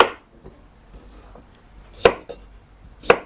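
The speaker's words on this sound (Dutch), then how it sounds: "Maar dan moeten we ze nog steeds snijden. Maar het hoeft niet zo klein. Het mag een beetje grof." A knife coarsely chops washed vegetables for a Dutch winter dish on a cutting board, giving several light taps followed by two loud, crisp chops about a second apart, with no talking.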